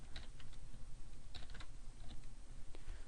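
Fingers type code on a computer keyboard during a PHP array lesson, a steady run of close, crisp key clicks with short pauses, with no voice over them.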